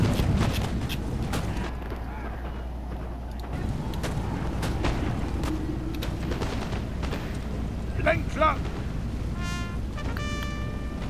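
Artillery fire in a Napoleon: Total War battle, distant booms and scattered musket cracks over a constant battlefield rumble, with brief shrill tones near the end.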